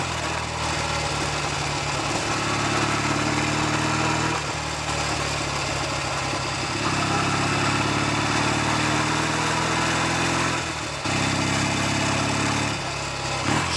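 A Norton Navigator 350 motorcycle engine runs steadily throughout, with harmonic bands rising and falling as the rider shifts through gears and uses engine braking, loud and close with brief dips between changes.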